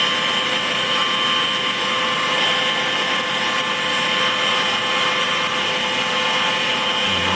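A helicopter flying over hurricane-damaged Saint Elizabeth sends out a loud, steady rotor and engine roar that runs unbroken from start to finish with no voices.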